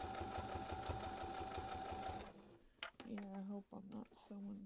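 A sewing machine runs in a fast, even rhythm while stitching a reversible bucket hat, then stops, and someone talks close by afterward.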